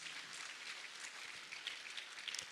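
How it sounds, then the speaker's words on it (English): Audience applause for the speakers at an arts awards ceremony, a steady, fairly faint wash of many hands clapping with occasional louder claps. "please give a round of applause to all our speakers"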